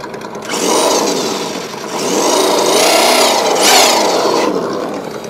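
A Mattel toy Batmobile's engine sound effect rises and falls with the throttle, giving a loud, close, whirring rev that swells in several surges over a few seconds, with no talking.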